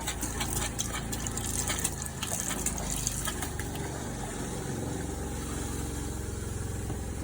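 A tap runs steadily into a sink, a constant close rush of water with a pump humming underneath for several seconds, no voices.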